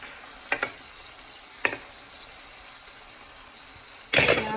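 Liver frying in butter in a pan, with a few brief stirring or scraping bursts over a low steady sizzle and a louder sizzling burst near the end.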